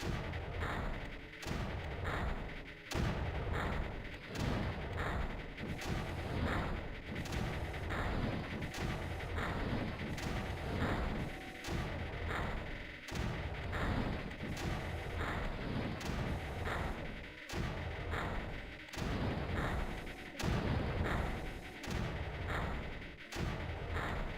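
Mortars firing in the video game Creeper World, a long run of repeated booming shots in a dense, regular rhythm over steady game noise, with no talk.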